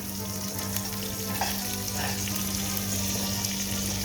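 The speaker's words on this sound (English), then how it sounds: "I've added a half cup of water to the caramel." Caramel sizzles loudly and continuously in a pan as butter and water go in, a dense crackling fry with bubbling surges and no talking.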